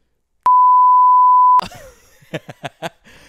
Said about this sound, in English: I mean, you could just beep.